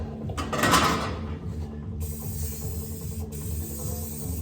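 An aerosol spray paint can hisses as it coats the back sides of car body panels, one loud broad burst followed by a softer continuing hiss and faint mechanical noise.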